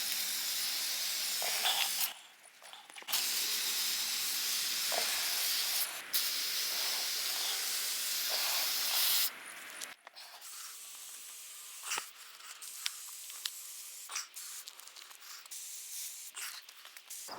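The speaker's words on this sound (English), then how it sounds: "I'm going to spray the leather with this, which I just picked up from Walmart." Bursts of protective spray from a can hiss onto leather Nike Air Max 90 Laser Mahogany sneakers in several close, steady blasts separated by short pauses, followed by soft handling taps.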